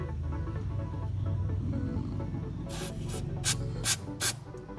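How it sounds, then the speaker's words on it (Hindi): Throttle body cleaner sprayed through a thin pipe onto the throttle body of a Daihatsu Move, heard as three or four short, loud hissing bursts following a low, steady background rumble. "अब हमें थोड़ा सा थोरो स्प्रे मारना है इस पर"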